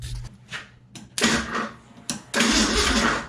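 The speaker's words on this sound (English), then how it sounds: "the engine's spinning over." A Ford Ranger 4x4 engine cranking over in bursts, several uneven starter attempts separated by short pauses, close and fairly loud.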